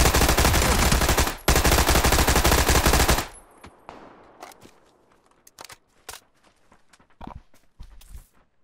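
A Tommy gun fires in a video game, a loud continuous rapid burst lasting about three seconds with a brief break, followed by scattered thumps, footsteps and shuffling movement.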